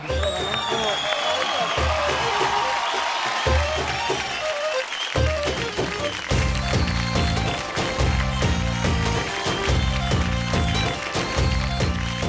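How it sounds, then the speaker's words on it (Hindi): A TV dance show studio audience claps and cheers for a contestant. The crowd noise sits under a pounding music track with strong rhythmic beats and stays lively and dense from start to finish. "तो बस तालियां तो बनती है इनके लिए"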